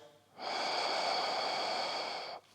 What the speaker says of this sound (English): This is your belly breathing.